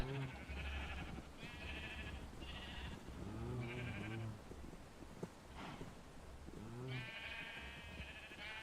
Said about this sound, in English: Come on, all my sheep.